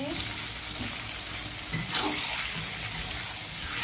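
Crushed jengkol goes into chili frying in a pan, producing a steady, soft hiss of sizzling oil with a few faint clatters.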